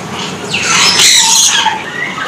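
Magpie robin (murai) calling inside a busy bird shop, a loud, harsh squawking call that swells in the middle and then trails off, with other bird chatter in the background.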